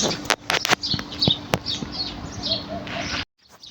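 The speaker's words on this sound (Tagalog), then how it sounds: "Ayan, doon sa taas ang huni ng ibon." Several birds chirp and tweet overhead at a moderate distance above a small vegetable garden, with a few sharp clicks or taps up close before the sound cuts to near silence.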